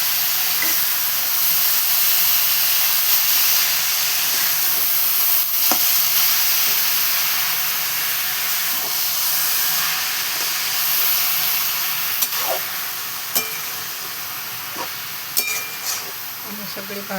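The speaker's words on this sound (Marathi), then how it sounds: "तिथं भाजी टाकून घ्यायची आणि अशी मस्त भाजी टाकून घेतली" Finely chopped fenugreek leaves sizzle steadily in a hot pan, a constant close hiss broken by a few scraping stirs and light clinks of the spoon against metal.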